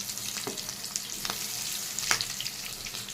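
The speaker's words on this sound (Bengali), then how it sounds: "বড়াগুলোকে আমি উল্টে দিচ্ছি।" Gram flour onion fritters are turned over in hot oil, a continuous close sizzle with a few sharp scraping clicks from the utensil as they flip.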